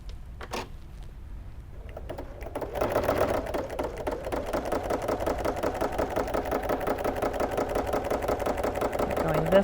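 Domestic sewing machine quilting fabric, starting after a short pause and then running steadily with a rapid, even stitching rhythm close by, with small shuffles of fabric at the start.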